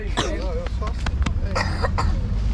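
Several close, sharp coughs in quick succession, mixed with brief talking and throat clearing.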